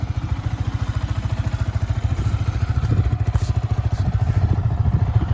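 A Yamaha MT-15 motorcycle with about 4,000 km on it idles close by, its engine beating in a fast, even, regular thump with light mechanical clatter over it.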